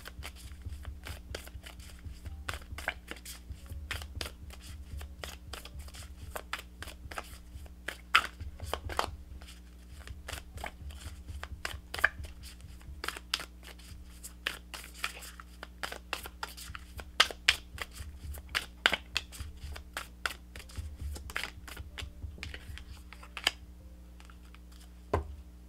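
Tarot guidance cards are shuffled close up in quiet, irregular runs of soft flicks and taps over a low steady hum, with no talking.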